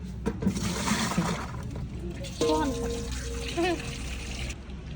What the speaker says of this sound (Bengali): মাংস ভালো করে ধোয়া পাকলা চলছে।